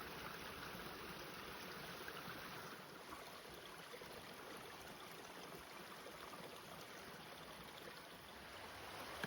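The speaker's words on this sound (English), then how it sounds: "It's flowing into the beaver dam over there." Water from a stream flowing into a beaver dam, a faint, steady trickling rush with no voices.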